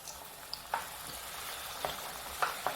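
Aloo samosas fry in hot oil with a steady broadband sizzle, broken by a few sharp pops and crackles as pieces are dropped in or bubble up.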